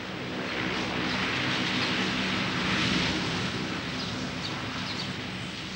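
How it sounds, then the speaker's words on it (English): Enormous transport planes thunder past at Stansted airport, a broad, sustained roar that swells and fades slightly, heard from nearby with no voices. "The rabbits seem undisturbed by the enormous transport planes that thunder past"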